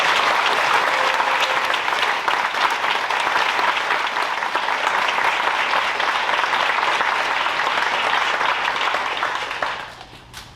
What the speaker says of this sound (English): give one more big round of applause to everybody tonight